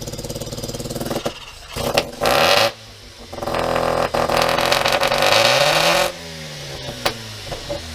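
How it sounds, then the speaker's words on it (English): A car engine running rich revs hard in bursts, then sputters and drops away as if about to stall, with uneven surges and pauses between. "When I hit the gas, it wants to stall."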